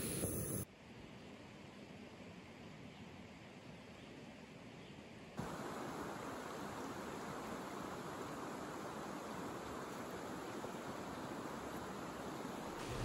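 The Curamileu River in northern Neuquén flows past a morning campsite, a steady broad rush of water that swells louder after a few seconds and holds constant, with no voices.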